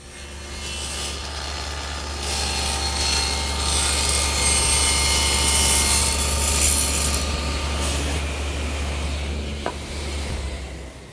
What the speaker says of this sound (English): with this little sliding jig that rides on my rip fence, I'm able to chamfer the edges on the front of the draw front